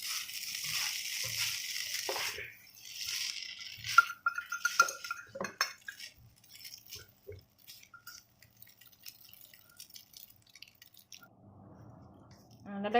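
Spaghetti aglio olio with prawns tossed in a hot pan, giving a few seconds of clattering, slushy mixing noise that then fades to faint scattered clicks, with a voice at times.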